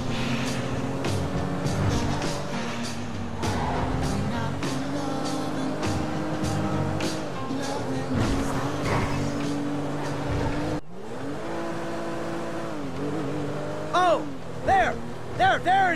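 Speedboat engine in GTA 5 racing away on the water, a steady loud drone with shifting revs, joined near the end by rising whine-like pitch sweeps.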